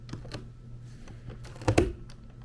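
A plain scrapbook storage box sticking as it is handled: scattered light clicks and taps, then a louder scraping thump near the end, close and alone.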